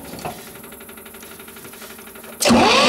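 A Belarus 250 (T2) tractor engine chugs rhythmically with the decompression lever pulled, then catches and jumps to a loud, steady run near the end.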